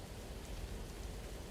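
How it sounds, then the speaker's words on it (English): Heavy rain pouring outside, a steady broadband hiss with faint low rumbling, heard from indoors at a moderate level with no talking. "rain's really coming down now"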